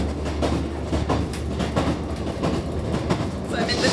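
Inside a moving passenger train at the joint between carriages on a Scottish railway line: loud steady rumble with rhythmic clickety-clack of wheels and rattling, close and continuous, a voice faintly under it.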